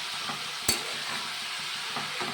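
Green chillies stirred in a frying pan with a hilsa fish head dish make a continuous hissing sizzle under soft scraping stirs, with one sharp utensil click early on.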